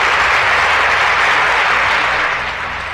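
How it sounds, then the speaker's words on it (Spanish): Applause from a gathered crowd celebrating birthdays, a dense, steady wash of many hands clapping that stays loud throughout and eases slightly near the end. "Todo ese gentío que está aquí que está aplaudiéndolo,"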